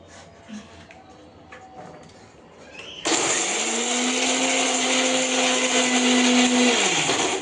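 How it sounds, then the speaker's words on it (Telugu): A few quiet knocks and faint talk, then a kitchen mixer grinder abruptly starts grinding ingredients into a paste, running loudly and steadily with a high whirring whine until the end. "ఇప్పుడు ఇవి మిక్సీ పట్టుకోవాలి మనం."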